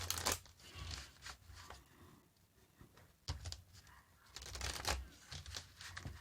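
Tarot cards are shuffled in two quick riffling bursts separated by a quiet pause, close and crisp, with faint handling noise between.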